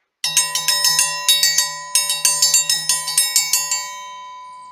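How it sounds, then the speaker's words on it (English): A bell rings in a rapid run of strikes, clustered in quick bursts across several seconds, loud and close, with a sustained ringing tone beneath and no voices. "sorry, that's my lunch bell."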